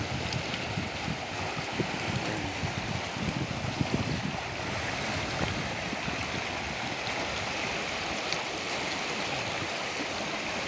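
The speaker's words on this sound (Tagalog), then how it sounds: "Ang lakas ng agos ng tubig." Strong rushing water flows steadily and loudly, a continuous roar of the Labangan River current in Mindoro, Philippines, with no voices.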